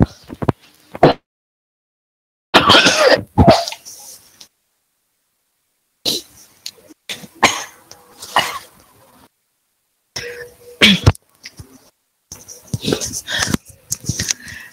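Someone coughs in several separate bursts, close and fairly loud, separated by silent pauses.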